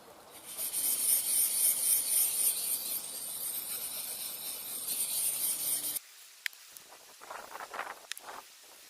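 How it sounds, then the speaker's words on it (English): A MOD survival knife is sharpened on a 1000 grit stone with a steady, close rasping scrape for about six seconds, then the stroking turns quieter and more broken, with a few light clicks. "The knife's rocking back and forth, the stone's rocking back and forth"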